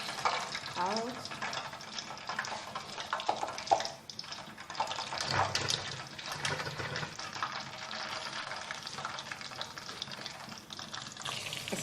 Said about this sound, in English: my carrot is still frying